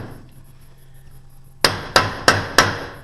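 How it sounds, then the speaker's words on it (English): A hammer strikes metal tabs on an M-23 controller four times in a steady rhythm, with sharp, close, ringing hits after a quiet pause. "hit it with a hammer, it spreads those tabs back out"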